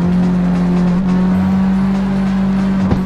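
Car drifting in the street-racing video game CarX Street, a loud sustained engine drone with a steady tone and tire squeal layered over it, continuous throughout without talk.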